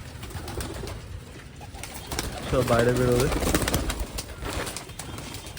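Pigeons coo and murmur close by in an enclosed space, with someone speaking briefly over the birds.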